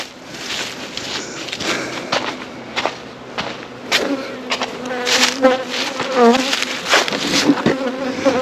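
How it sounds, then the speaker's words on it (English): Honey bees buzzing around an opened beehive at the first hive check of the year, a dense close hum with individual bees droning past, along with occasional clicks and knocks from handling the hive. "I have bees in here though."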